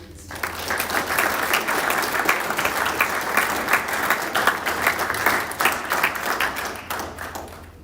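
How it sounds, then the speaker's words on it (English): Audience applause fills a city Board of Public Works and Safety meeting room, steady sustained clapping from a group of people lasting several seconds at close range, with no talk over it. "If you all will join me in a round of applause, please."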